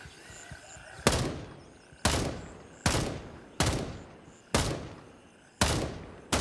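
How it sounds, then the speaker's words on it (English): Gunfire in the video game Gray Zone: seven loud, sharp gunshots at roughly one-second intervals, each followed by a decaying echo tail, with no talking over them. "Just shooting in my direction."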